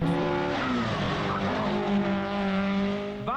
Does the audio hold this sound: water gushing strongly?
no